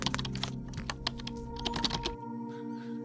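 Rapid clicking of keys on a computer keyboard as a number is entered, steady close tapping that stops abruptly, leaving faint background hiss.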